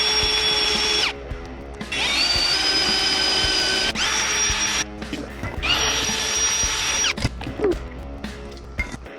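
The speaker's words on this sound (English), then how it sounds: "we're gonna take the drill to this and make it a 1/4 inch" A power drill whirs in several loud bursts, stopping and restarting, with grinding as the bit bites into a metal fitting on a 1969 Camaro, enlarging it to 1/4 inch, between short pauses.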